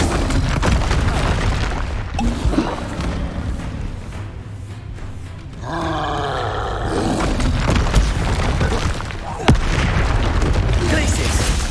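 Blasts from the Confringo spell in Hogwarts Legacy boom heavily amid busy game combat, with a couple of sharp explosive hits rising above rumbling noise and a voice calling out.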